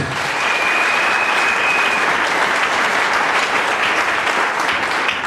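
A large church congregation claps loudly and steadily for several seconds at a deliverance service, a dense, sustained round of applause with no one speaking.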